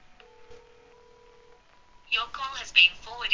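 A telephone call with faint tones and a long steady dial or ring tone heard quietly, after which a voice speaks over the line.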